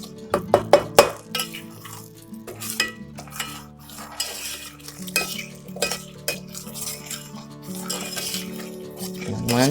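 Butter and brown sugar melting together in a pan over medium-high heat, with a spoon scraping and clinking against the metal, sharp clinks early on, then steady stirring over a soft, low hum.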